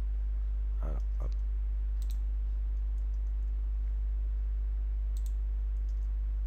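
Computer mouse clicks while working in Adobe Illustrator CS6, a couple of quick close clicks early on, then faint taps later over a steady low electrical hum.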